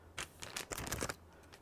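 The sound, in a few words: unwrapping color-coded electrode packaging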